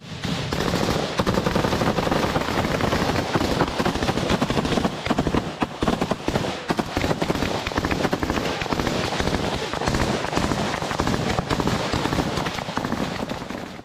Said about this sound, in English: The Ukrainian fighters are providing suppressive fire to prevent the Russians from firing back and forcing them to stay behind cover.